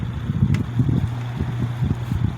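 A Lakewood X22 box fan from the 1960s runs on its slow low speed, its motor in need of cleaning. It gives a steady low hum with a fluttering, wind-like rumble, loud and close, with no voices.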